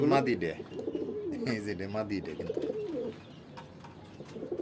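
Racing pigeons coo at a farm full of birds, several throaty rolling coos overlapping near at hand with soft flutters and rustles around them.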